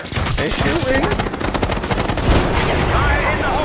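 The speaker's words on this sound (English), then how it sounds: "Oh! They're shooting." Rapid automatic gunfire in the shooter game Call of Duty: Black Ops 6, a dense, continuous stream of loud shots with overlapping bursts, with brief in-game voices mixed under the firing.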